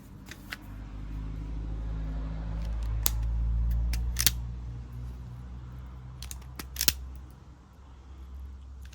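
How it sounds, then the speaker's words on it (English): Snips of cutters cut through the stator wires of a Chinese 110cc ATV dirt bike, several sharp close clicks spaced apart over a low rumbling background. "I'm just gonna cut all these wires back."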